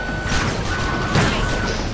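Reversing beeps from a vehicle in the video game GTA 3, heard as a steady high electronic tone running through dense, loud engine and traffic noise with a heavy rumbling crash near the middle.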